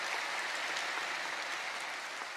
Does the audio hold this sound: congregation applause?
yes